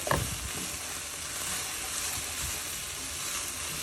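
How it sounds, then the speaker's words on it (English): Banana flower simmering in a pot on the stove, a steady close sizzling and bubbling hiss that carries on without pause, with a brief clink at the start and no talking. "I'm gonna let this simmer down."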